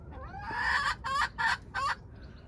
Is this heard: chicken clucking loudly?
yes